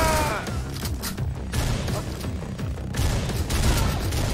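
Shotgun blasts in the video game Butcher come in heavy, overlapping bursts, loud and close. Dense booming fire fills the whole stretch with brief lulls between volleys, and no one speaks.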